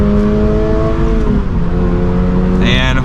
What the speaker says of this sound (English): let's do one last acceleration onto the highway. So pedal to the floor